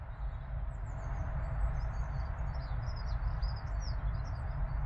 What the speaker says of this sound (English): Just hearing the birds, just listen,